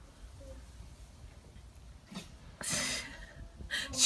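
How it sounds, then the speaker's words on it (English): A dog sneezes outdoors in the snow, giving one sharp burst, then a second shorter snort-like sneeze a moment later, both fairly close over quiet background. "She just sneezed her nose."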